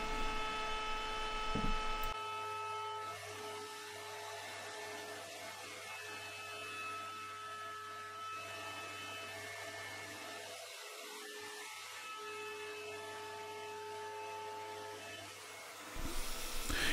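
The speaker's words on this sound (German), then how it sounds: "Nun fräse ich den Zapfen mit einem 6 mm Fräser und mehreren Durchgängen." Shaper Origin handheld CNC router milling a wooden tenon with a 6 mm bit in several passes: a steady, loud whirring drone with a low hum that holds for about fourteen seconds, then cuts off.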